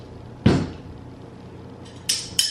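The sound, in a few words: stapling canvas to wooden stretcher bar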